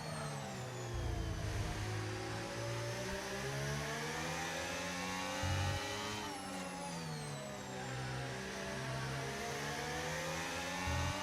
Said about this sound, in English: Oh, it's just Lofty Pickle's car coming back onto the track.